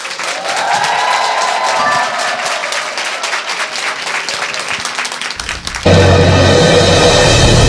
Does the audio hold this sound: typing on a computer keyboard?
no